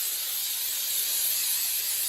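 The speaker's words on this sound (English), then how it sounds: "I'm just using some vegetable-based cooking spray" A short, steady hiss of vegetable-based cooking spray being sprayed into a muffin pan, close and continuous for about two seconds.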